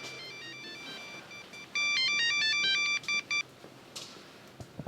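A telephone rings with a bright electronic ringtone, one melodic burst of a few seconds that cuts off abruptly, set against a faint room background.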